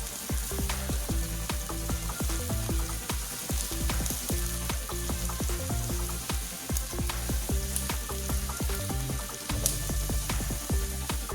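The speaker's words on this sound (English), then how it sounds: "Then my chopped green beans goes in and I fry some more." Spring onion and chopped green beans fry in hot oil, giving a loud, steady, close sizzle dense with crackles and pops that runs unbroken throughout, with no talking.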